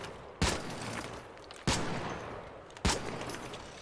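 Three sharp gunshots from the video game ARC Raiders, spaced about a second apart, each a loud broadband crack trailing into a short decay, with no talk over them.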